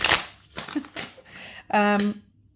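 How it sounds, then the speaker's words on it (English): A quick riffle shuffle of tarot cards, a brief crisp flutter ending in a short buzzing cascade, with faint handling noises before it. "I'm going to do the riffle shuffle"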